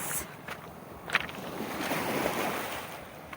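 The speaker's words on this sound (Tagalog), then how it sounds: "yung splash ng waves sa dalampasigan" Waves splash and wash steadily onto a beach shore, a continuous broadband surf with brief louder splashes, heard alone without voices.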